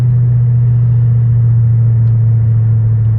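A Lexus car's engine hums in a steady, loud, low drone from inside the cabin for about three seconds, with no clear rise in pitch and no talking.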